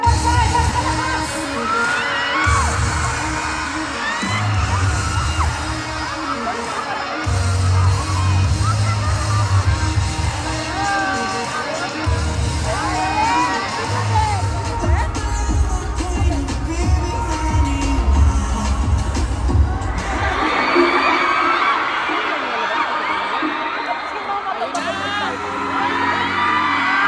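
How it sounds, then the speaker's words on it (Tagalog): A large live concert crowd in Qatar whoops, shouts and cheers in loud waves over booming bass music, with clapping mixed in and a big rise in cheering near the end. "Magpalakpakan naman ng may kasamang hiyawan!"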